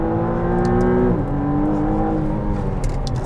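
A 2023 McLaren Artura plug-in hybrid during a braking test, heard as a loud, steady engine drone whose pitch drops partway through before it settles lower, with no speech.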